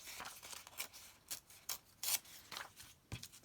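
Paper script being torn out in a few sharp ripping bursts, close and fairly quiet, with brief rustling between the tears.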